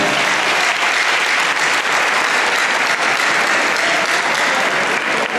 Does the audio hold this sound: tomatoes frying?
no